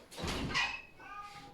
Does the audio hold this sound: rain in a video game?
no